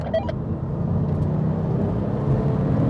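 A Corvette ZR1 and a Porsche 911 GT2 accelerate in third gear, giving a steady low engine drone that builds slightly, heard from inside, with a brief click at the start and no talk.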